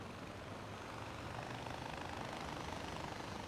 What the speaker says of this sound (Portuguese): Encontrei o helicóptero, Herc. Vou pegá-lo.